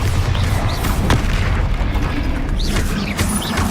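A Bombarda explosion spell cast in Hogwarts Legacy, heard as a dense, loud, continuous booming blast with crackling bursts layered over it throughout.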